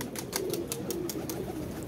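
Pigeons of Kamagar, Dab and Teddy breeds, kept in VIP-class pairs, coo softly and steadily at close range, with a series of short sharp sounds repeating in a loose rhythm throughout.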